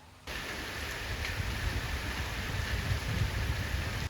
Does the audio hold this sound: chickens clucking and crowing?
no